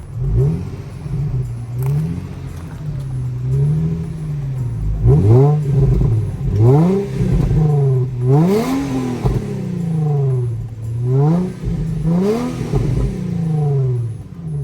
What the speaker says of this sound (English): I haven't heard a stock exhaust in so long.